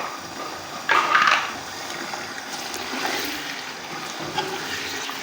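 Green cardamom pods and cloves drop into hot oil for a white chicken karahi, giving a sharp sizzling burst near the start that settles into a softer crackle.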